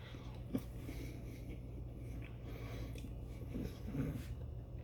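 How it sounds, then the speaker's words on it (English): Soft bites and chewing of apple cinnamon cake, faint and close, with a couple of small crunchy clicks over a quiet background hum. "going to try a bit of that cake by itself"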